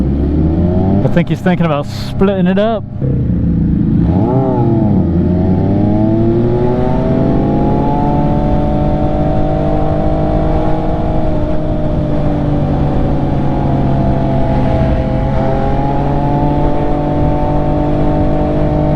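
Motorcycle ride through road traffic on an MV Agusta, a steady loud engine drone with rising and falling pitch throughout, a few brief voices over it at the start.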